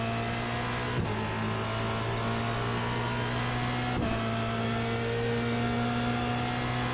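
A Formula Renault 2.0 race car at Spa holds a steady, high-pitched engine drone from onboard, with two brief dips where the revs cut momentarily, loud and continuous with no voices.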